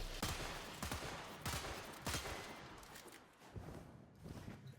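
The Zylok Incarnon weapon fires in the Warframe video game. Several sharp, rapid shots come in bursts at a low, fairly faint level.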